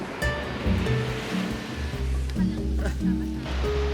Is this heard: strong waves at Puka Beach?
yes